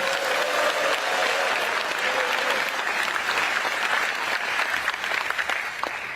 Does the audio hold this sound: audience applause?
yes